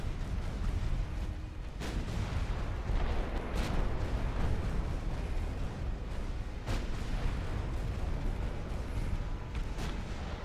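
Warship guns firing in Ultimate Admiral Dreadnoughts, distant booming salvos spaced across a constant low rumble of naval battle.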